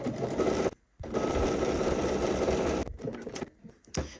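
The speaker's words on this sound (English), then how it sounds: "So let's go to the machine and let's do that real quick" A sewing machine stitches a bodice seam at 5/8 inch in a steady, close, continuous whir, pausing briefly once, then ending in a few short stop-start bursts.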